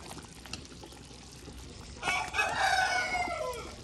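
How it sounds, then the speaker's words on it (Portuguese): A rooster crows once on a farm, a single rising and falling call starting about halfway through, moderately loud and somewhat distant, over quiet outdoor background. "E o galo tá ali cantarolando."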